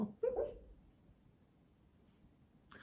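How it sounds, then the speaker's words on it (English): A single soft, muffled woof from a dog barking in its sleep near the start, followed by near silence with faint background hiss. "That's my dog. She's barking in her dream."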